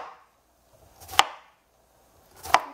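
A knife chops down through a squash on a cutting board, two sharp isolated chops about a second apart, close and clear, with quiet in between.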